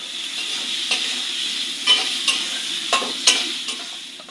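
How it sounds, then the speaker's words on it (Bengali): Onion and chili frying in a pan make a steady close sizzle throughout, with a few louder spoon stirs and scrapes popping out over the hiss; no talking. "এখন পেঁয়াজ মরিচটা প্রথমে ভেজে নিবে"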